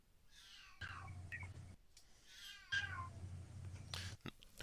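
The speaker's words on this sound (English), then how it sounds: "There goes the cat." A house cat named Widget meows twice, each a drawn-out, rising-and-falling cry lasting about a second, fairly close and clear, with a short sharp sound at the end.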